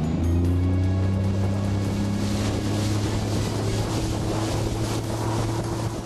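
Boats fitted with automatic trim tabs accelerating out of the hole onto plane, a loud droning outboard engine roar with wind buffeting and rushing water, heard close and steady throughout.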